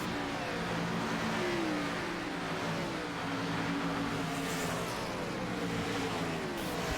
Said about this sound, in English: Ryan Hedrick trying to get out of his way in the Napa 9 car